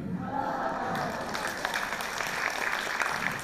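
A few audience members clap in a room during a product presentation, with light scattered handclaps under a murmur of crowd noise.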